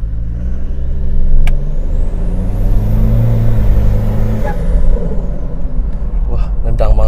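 Toyota Fortuner bi-turbo diesel SUV accelerating hard, a loud continuous engine roar with rising harmonic pitch and a hiss of turbo whine over the top, close and sustained, with voices talking over it.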